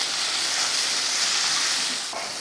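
Three eggs hit a pan of frying tomatoes and get stirred in, making a dense, even hiss of sizzling that holds steady and then eases slightly near the end.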